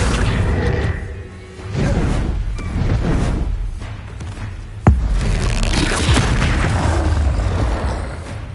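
Bombarda spell blasts in the Hogwarts Legacy video game, heavy booming explosions rolling one after another, with a sharp crack in the middle and dense low-end rumble throughout.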